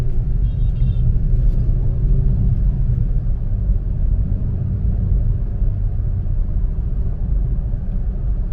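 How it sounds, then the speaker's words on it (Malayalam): A 2020 Hyundai Grand i10 Nios pulls away on a road with a steady, dense low engine rumble and road noise. It holds close and loud throughout, with no talk over it. "അപ്പൊ നമുക്ക് ജസ്റ്റ് ഒന്ന് കാല് കൊടുത്തൊന്ന് പോയി നോക്കാം വണ്ടി."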